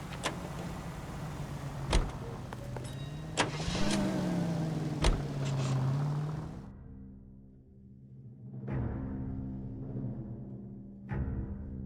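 Car driving in the video game L.A. Noire, a steady engine drone with a brief rising pitch sweep and several sharp clicks or thumps, then the engine cuts out to a quieter hum with a few scattered knocks.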